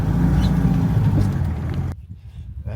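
A van is driven along the road with a steady, loud engine and road rumble that drops abruptly to a quieter hum near the end.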